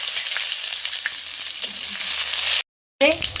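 Cumin, curry leaves and garlic paste hiss and crackle loudly in hot oil in a close-up pan, a dense steady sizzle broken by a brief cut to silence before it resumes.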